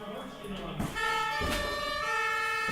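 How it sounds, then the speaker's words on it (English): A German police car siren wailing loud and steady in a sustained tonal sweep, with a brief voice over it at the start. "that's a German police car sound"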